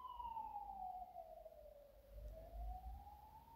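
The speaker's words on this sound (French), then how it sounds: "il y a une ambulance qui vient de passer." An ambulance siren passes outside, a single faint wailing tone that falls and then rises again as it goes by, heard alone at a distance.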